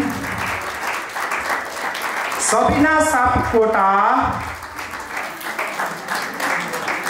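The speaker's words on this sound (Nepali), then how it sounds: "सबैजनाले ताली बजाइदिनु होला।" Audience applause at a farewell event, steady clapping that carries under an announcer reading out a name through a loudspeaker.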